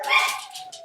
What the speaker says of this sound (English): we can hear the dogs.